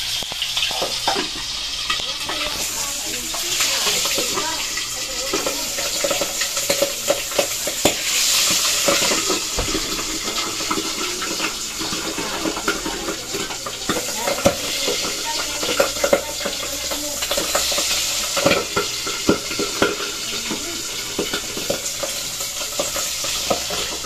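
Pork pieces fry in a pan for dinner, a steady close sizzle and crackle with spatters and occasional stirring throughout, no talking.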